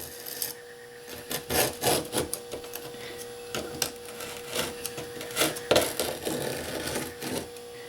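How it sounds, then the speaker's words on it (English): A putty knife scrapes and peels ballast away from the edge of N scale Kato Unitrack. The sound is a close, gritty rasp made of repeated short scraping strokes, with no talking. "I'm just peeling back the ballast from the edge of the Unitrack piece that I want to remove"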